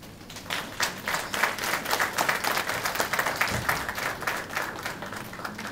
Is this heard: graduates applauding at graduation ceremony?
yes